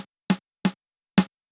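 Isolated snare drum hits with no Decapitator saturation plugin, four sharp strikes at a steady, slow pace with silence between, dry and close.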